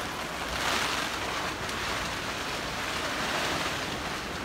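Heavy Saturday-morning rain driven by strong wind, heard as a steady, dense hiss and roar with gusty swells, close and continuous, with no talking.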